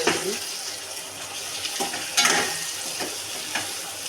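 Curry leaves sizzling in hot oil for an eggplant curry, a steady close hiss with sharper crackling bursts and light pan clatter, with no speech.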